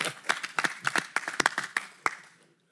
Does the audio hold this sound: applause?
yes